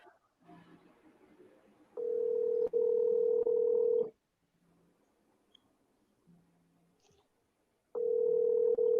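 A telephone line gives a steady dial tone in two long bursts separated by a few seconds of quiet room noise, loud and clean against faint background murmur while someone places a call.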